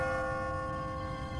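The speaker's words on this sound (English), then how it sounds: "What kind of church bell goes off at 20 past the hour?" Church bell tolling in The Walking Dead video game, a steady sustained ringing with long overlapping harmonic tones over a low rumbling background, fairly faint and continuous with no voices.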